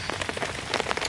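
Rain patters steadily on a tent tarp, a dense and even drumming of drops close overhead with no voices.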